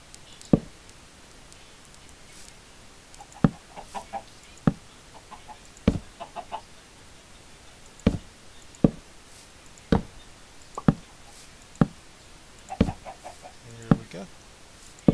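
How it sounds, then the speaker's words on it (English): Blocky Minecraft-style game chickens give scattered single clucks and short clucking runs at uneven intervals, close and clear over a quiet backdrop. "And you don't want chickens around, so you just pop them out of the way or kill them."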